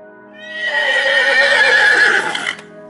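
A horse gives a loud, clear whinny lasting about two seconds, rising into a strong, bright call meant to carry to distant horses, then cutting off abruptly.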